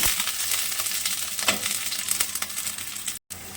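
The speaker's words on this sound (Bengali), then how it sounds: "এবার ওই তেলেই আমি আলুগুলোকে একটুখানি লাল লাল করে ভেজে নেব।" Potatoes frying in hot oil, a steady close sizzle that crackles on throughout, a few sharper spits along the way and a brief cut near the end; no voices.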